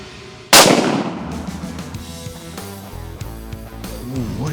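A small pistol fires one sharp, loud shot that rings out and decays over a few seconds outdoors, followed by low rustling and handling sounds.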